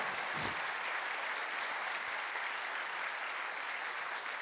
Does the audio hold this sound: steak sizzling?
no